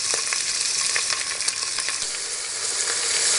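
Beef pieces sizzle and fry in a pot as the base for a pasta soup: a loud, continuous crackling hiss with small popping bursts throughout and no talking.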